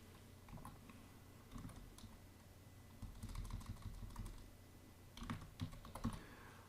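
Fingers type on a computer keyboard in quiet, uneven bursts of close key clicks, with short pauses and a few heavier taps, all faint and alone.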